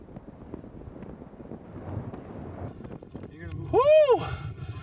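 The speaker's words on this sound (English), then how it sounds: "Yeah, that wind is blowing right now." Strong wind gusts buffet the microphone during a climb of the Twin Owls in Rocky Mountain National Park, a rushing roar that builds to a loud burst near the end, with voices calling out over it.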